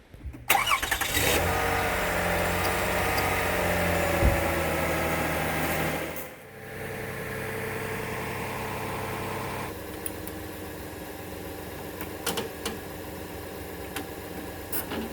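A small tractor engine, freshly fitted with a replacement carburetor and air filter and jump-started from a car, cranks and catches, then runs at a steady idle, loud and close, with a brief dip before settling into a continuous rumble.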